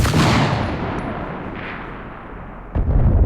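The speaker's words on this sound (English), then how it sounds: "So you hear the delayed explosion." Rifle shot at a firing range in the game Enlisted: a sharp loud crack that rings out and decays, then about two and a half seconds later a delayed distant explosion booms.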